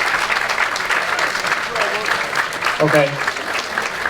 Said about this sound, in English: let's give a round of applause for all the volunteers